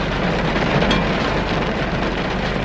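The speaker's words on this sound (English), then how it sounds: "just as we got to the street, it started pouring down" Heavy rain pouring down outside a parked car in Florida, a steady dense hiss and drumming that stays close and unbroken throughout, with no voices.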